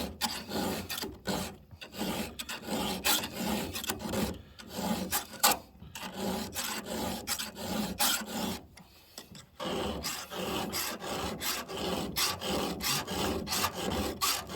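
Close, rhythmic rasping strokes of a hand file sharpening chainsaw chain teeth, each stroke a short gritty scrape, pausing briefly between series and running steadily without talk.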